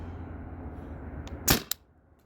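A Tippmann TiPX paintball marker on an HPA remote line fires two sharp pneumatic pops in quick succession over a low background hum.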